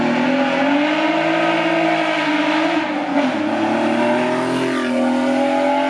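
Porsche 911 with a flat-six engine and a straight-through exhaust, running hot, revs in a loud, continuous snarl with shifting pitch and a brief pop midway, close up without talk.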